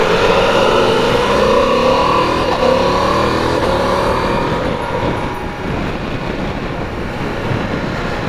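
A Ducati Multistrada V4S motorcycle engine holds a steady, loud drone while being ridden in fifth gear, with heavy wind rush over the microphone and the engine note easing slightly midway.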